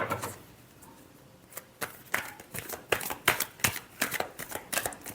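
Tarot cards being shuffled up close make quick riffling bursts that speed up into a steady rhythmic flutter over the second half.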